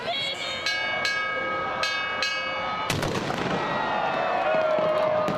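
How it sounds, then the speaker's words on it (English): Sharp, loud bangs of New Year firecrackers burst at intervals at Victoria Harbour, Hong Kong, against a continuous background of tonal noise and music from speakers, with a larger blast followed by rumbling crackle. "music blasted from speakers mixed with firecrackers"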